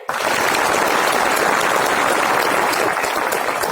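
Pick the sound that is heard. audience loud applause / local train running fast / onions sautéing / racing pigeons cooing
audience loud applause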